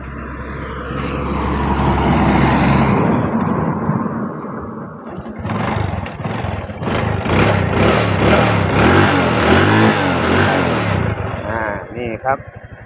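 A Honda Wave 110i motorcycle fitted with a sidecar idles and then revs repeatedly close by, its pitch climbing and falling, while someone talks over it.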